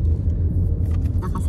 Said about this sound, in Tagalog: Nandito na kami sa loob ng sasakyan.